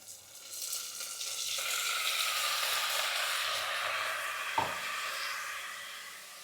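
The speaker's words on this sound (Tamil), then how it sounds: "பாருங்கள், இப்போ நான் தக்காளி போட்டுறேன்" Tomatoes sizzling as they sauté in a pan of oil for a ridge gourd dish, a steady broad hiss lasting throughout with one brief clatter near the end, no talking.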